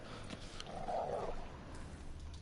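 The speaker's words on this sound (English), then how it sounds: "Just beware of the dogs." A dog in The Witcher 3 video game gives a brief growling bark in the middle of a quiet, low ambient game backdrop, moderately close and heard alone without talk.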